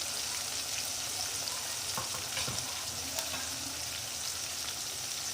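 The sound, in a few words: ginger garlic paste sautéing with tomato in pan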